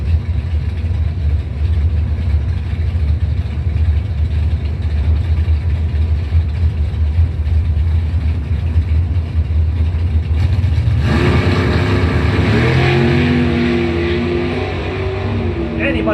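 Dragster engines rumble loud and close at the starting line of a drag race, then burst into a sharp, roaring launch near the end, with a public-address commentator talking over the noise.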